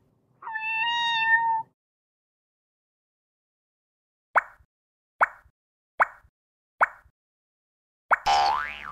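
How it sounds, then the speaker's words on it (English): A kitten gives a long, clear meow in a children's shape puzzle game, then after a silence comes a series of evenly spaced soft plops, ending with a second brief cry. "Kitten."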